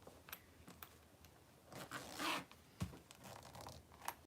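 Small zipper pulls, size number 3, are handled while sewing a bowler bag, producing a series of quiet, close metallic scrapes and clicks at irregular intervals with no talking.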